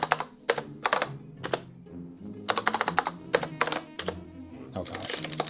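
Quick bursts of clacking keystrokes on a computer keyboard as a password is typed, with short pauses between the runs of keys, close and distinct.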